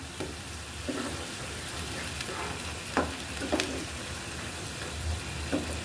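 Poached eggs cooking into a bhuna sizzle and fry in a pan, the soft hiss broken by several scraping stirs of a spatula against the metal.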